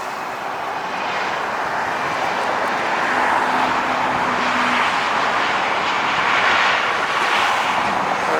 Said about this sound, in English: Big Pratt & Whitney engines are going to be loud.